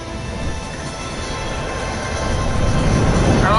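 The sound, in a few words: train in video game Final Fantasy VII Remake demo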